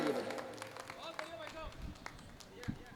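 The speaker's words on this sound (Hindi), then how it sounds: "एक बार जोरदार तालियां इन सब के लिए।" Audience applause at a Hindi poetry gathering (kavi sammelan) during a temple festival, a dense burst of clapping that swells at the start and continues through the clip, mixed with crowd noise.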